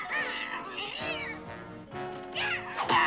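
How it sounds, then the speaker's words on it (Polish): A cartoon cat in a Smurfs Halloween special lets out several drawn-out, loud meows and yowls in quick succession, close and expressive. "A, głupi kot!"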